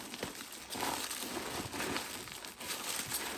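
Crinkly crackling and tearing noises up close, like tape being peeled from packaging, in short uneven bursts.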